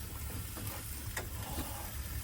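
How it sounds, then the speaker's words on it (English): Bacon sizzles in a frying pan on a camp stove during a desert trip, a faint, steady crackle and hiss with small pops, heard at low level without talk. "Sizzling."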